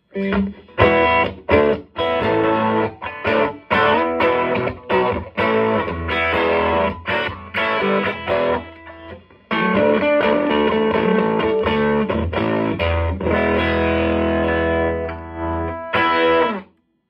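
A Danelectro DM25 amp cranked to 10 drives a DiPinto Galaxie guitar, giving loud, mildly distorted chords and riffs strummed in rhythmic bursts with short pauses, then a sustained passage before it cuts off.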